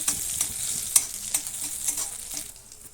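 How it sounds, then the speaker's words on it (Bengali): Crushed ginger frying in a little hot oil in a pan for methi paratha, a steady close sizzle with a few sharp crackles and pops, no voices. "তেলটা একটু গরম হয়েছে দিয়ে দিলাম থেঁতো করা আদা আদাটাকে অল্প একটু ভেজে নেব"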